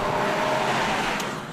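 A classic Bentley S3 accelerates during the Arabella Classics oldtimer rally, its engine giving a brief, fairly close, steady growl with road noise and no voices.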